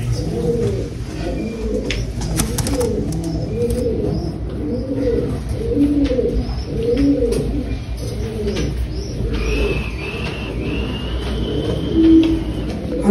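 Several pigeons coo in repeated soft, low, throaty phrases, close by and continuous, with faint chirps and a distant car in the background and no speech.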